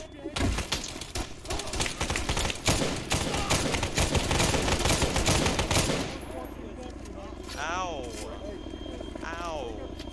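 Dense bursts of rapid gunfire are aimed at an enemy Chinook helicopter in the video game Arma, loud and continuous for about six seconds. A quieter engine drone follows with scattered chatter and voices.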